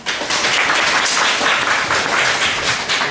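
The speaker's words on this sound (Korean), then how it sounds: "큰 박수로 환영 부탁드립니다." An audience at an academic seminar gives a warm round of applause welcoming a professor to speak, loud and continuous clapping from many hands filling the whole stretch.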